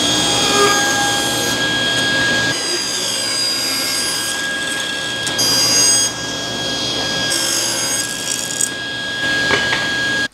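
Table saw cutting a square strip from a piece of wood, a loud continuous whine with a steady high tone and rough cutting noise that changes pitch as the blade engages and runs down.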